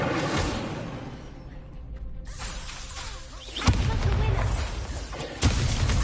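Incendio fire spell bursts in Hogwarts Legacy, two sudden booming whooshes a couple of seconds apart that rise out of steady, rumbling game ambience.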